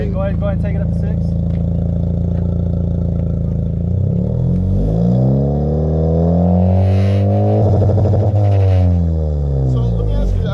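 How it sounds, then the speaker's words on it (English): Honda Civic Type R 1.5 engine, 2023 model fitted with a K tuner, revving from a steady idle up toward 6000 rpm, the rising harmonics climbing and falling in loud repeated sweeps with people talking over it. "Okay, go ahead and take it up to 6."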